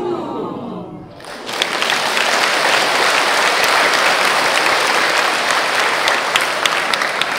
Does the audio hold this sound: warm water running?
no